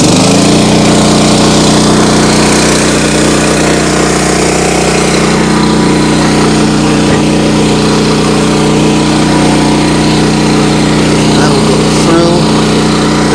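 Small gasoline engine on a vertical log splitter running loud and steady at close range, a constant droning hum with slight fluctuations throughout, and no clear speech.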